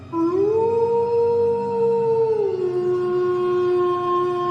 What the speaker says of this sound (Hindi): दूर से कुत्तों के भौंकने की आवाज, बीच बीच में सियार की रोती हुई चीखें